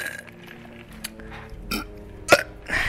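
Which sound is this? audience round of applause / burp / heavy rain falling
burp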